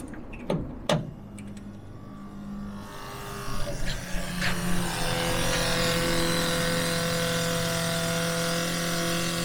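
A 1954 Willys military jeep engine being cranked: a few sharp clicks, then a rising starter whir that settles into a steady, close mechanical drone with tonal hum, loud and continuous to the end.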